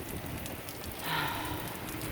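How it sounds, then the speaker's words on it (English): Steady rain falls on surfaces during a tropical storm, with a constant dense patter and a slight swell of wind partway through, close and moderately loud. "more wind and rain, just what we need"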